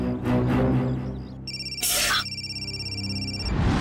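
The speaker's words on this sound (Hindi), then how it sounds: "सर, वो किसी को फोन कर रही है।" An outgoing phone call rings through a handset, a repeating pulsed electronic ringback tone with a louder burst in the middle, heard close and clear against some background music and sound effects, with no talking.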